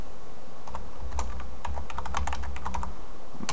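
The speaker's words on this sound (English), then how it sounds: "So I'll type in bulk extractor." Steady run of close, crisp keystrokes on a computer keyboard as a bulk_extractor command is typed into a Backtrack 5 Linux terminal, clicks coming in quick uneven bursts over a low background hum.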